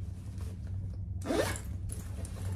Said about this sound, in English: There's the bag with the zipper. You got a huge zipper pocket back here.